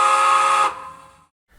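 Central New Jersey three-chime steam whistle from a locomotive sound decoder, one loud sustained chord-like blast that cuts off and fades into a brief trailing hiss.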